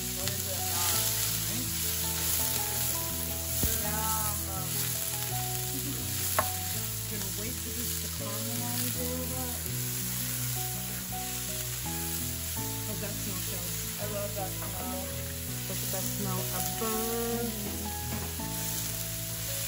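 Garlic and onion fry in very hot oil in a pan, a steady close sizzle with stirring scrapes throughout, a sharp clack near the middle.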